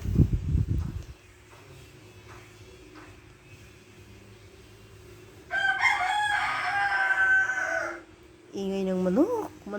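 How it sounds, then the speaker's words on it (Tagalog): A rooster crows twice in a backyard, each call loud and rising after a long quiet stretch with faint background hum and a brief muffled thump at the start. "Manok yung background ko, no?"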